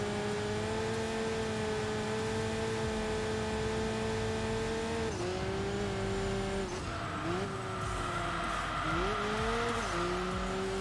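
In the Enthusia Professional Racing video game, a sports coupe's engine drones loudly with steady harmonic pitch, a rival car audible approaching from behind, with gear shifts and pitch dips as the car brakes and corners.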